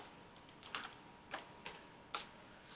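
Faint, close clicks of a computer keyboard as an email address and password are typed, a few sparse keystrokes spread over a quiet background.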